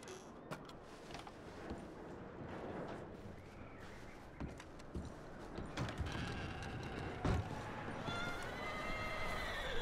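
Horses in Red Dead Redemption 2 whinny and snort amid scattered hoof clops and tack clatter, with sharp knocks and thuds rising in the background toward the end.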